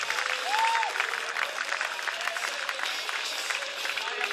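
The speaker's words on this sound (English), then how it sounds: "Big round of applause for Taras Mishkin and Peter Buckner." Applause for medalists at a beach volleyball medal ceremony in Manila, a steady wash of clapping from a crowd at moderate distance that lasts throughout.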